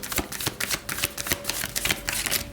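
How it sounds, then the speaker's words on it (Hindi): Tarot cards are shuffled by hand in quick, rhythmic bursts of crisp riffling and flicking, close and clear, with no talking. "तो चलिए शफल कर लेते हैं स्कॉर्पियो वृश्चिक राशि के लिए"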